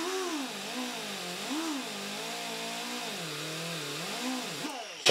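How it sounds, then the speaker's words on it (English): A canvas buffing wheel loaded with compound whirs steadily while polishing a Telecaster guitar body, a close continuous motor drone whose pitch rises and dips as pressure changes, ending with a brief clunk. "So load up this canvas wheel."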